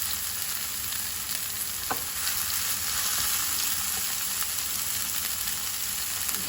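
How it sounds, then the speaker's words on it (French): Food browning in a frying pan, a dense, even sizzle that hisses steadily and loudly up close, with a couple of faint utensil taps and no talking. "On va faire tout ça bien rissoler."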